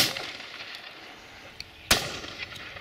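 A shotgun fires at a driven partridge shoot outdoors: one sharp, distant crack stands out, with a fainter pop just before it, against quiet open-air background.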